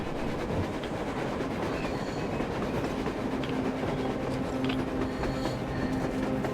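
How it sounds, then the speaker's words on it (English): Train rolling past on the surface in the Metro video game, a heavy continuous rumble with rattling carriages, faint clickety-clack and a thin wheel squeal, steady and fairly close. "A train! A damn train on the surface!"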